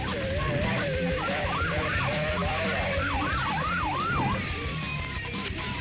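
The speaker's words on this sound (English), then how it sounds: "ignoring their flashing lights and sirens" Police cars chasing a suspect's truck, their wailing and yelping sirens rising and falling over a steady engine and road rumble, loud and continuous.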